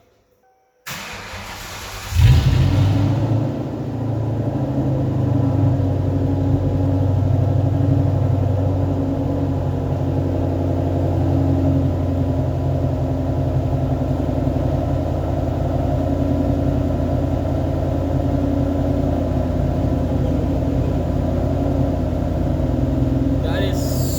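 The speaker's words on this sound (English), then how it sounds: "this is the first startup of Buc Nasty with the H pipe and no exhaust. So this is basically straight pipe" A Ford Mustang fitted with an H pipe and no mufflers, effectively straight piped, cranks and fires after a moment of silence, then settles into a loud, buzzy, rumbling idle that holds steady close to the microphone.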